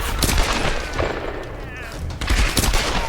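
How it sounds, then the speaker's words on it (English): Gunfire in the video game Tomb Raider (2013), with a shotgun-wielding enemy nearby: loud, dense shots and blasts fill the short stretch, continuous and close, with game sounds layered underneath. "Can try to hit him with a headshot as he moves forward."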